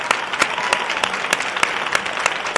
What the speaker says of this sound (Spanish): pero antes, este aplauso.